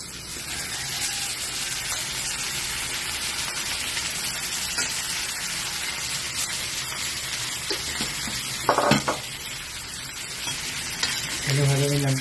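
Shrimp fry in butter with garlic in a pan, a dense, close sizzle that runs throughout, with brief stirring scrapes and a short bit of talking near the end.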